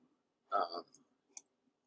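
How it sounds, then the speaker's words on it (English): Two quiet keypresses on a Mac keyboard, first the Z key and then the spacebar. The clicks are close and short, with silence around them. "Just typing Z, letting go, hitting the spacebar, and letting go"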